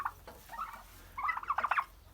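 Turkeys in a farmyard at morning feeding give several short, warbling gobbling calls at close range, the last burst of calls louder and more rapid, with no talking.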